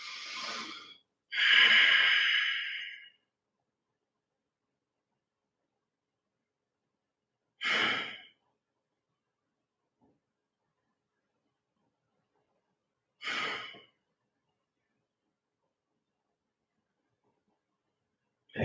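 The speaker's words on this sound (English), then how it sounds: "I'm going to exhale and I'm going to start the 6-second inhale" Slow, deep breaths are drawn in during a guided breathing exercise, with airy inhales and exhales spaced several seconds apart and long stretches of silence between them. They are close and moderately loud, with no talk.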